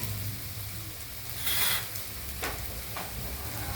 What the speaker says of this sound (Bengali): তো পেঁয়াজটা এখানে ভাজা হচ্ছে হালকা আস্তে আস্তে হচ্ছে